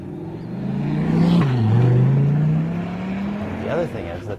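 A 2014 Corvette Stingray C7 and a 2013 Viper SRT coupe drag race, their engines roaring loudly with a rising pitch that drops at a gear change and then climbs again.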